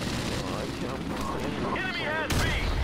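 Gunshots ring out during an online video game match, sharp bursts over dense in-game noise and effects, while players talk excitedly through the whole stretch.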